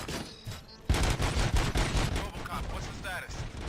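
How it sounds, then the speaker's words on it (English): A burst of rapid gunfire, many shots in quick succession, loud and close, continuing in an irregular volley. "Gunshots? What's going on?"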